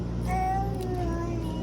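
A pet cat named Bella meows at a laundromat, a drawn-out, wavering cry lasting well over a second, close and fairly loud over a low, steady hum of machines.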